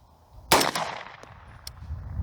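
A subsonic round fired without a suppressor, a single sharp close report with a brief decaying tail, followed by a couple of faint metallic clicks.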